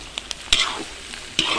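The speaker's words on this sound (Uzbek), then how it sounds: "Endi qovuramiz." Diced carrots and onions for lagman are stirred and fried in a hot pan. A close, steady sizzle runs throughout, broken by a few sharp scraping strokes of the utensil.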